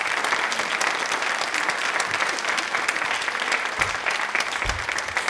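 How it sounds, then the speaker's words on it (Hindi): Loud, sustained applause from a studio audience at a televised Rajasthan question-and-answer program, with dense, even clapping that holds steady throughout and no speech over it. "तालियां एक बार जोरों से होनी चाहिए।"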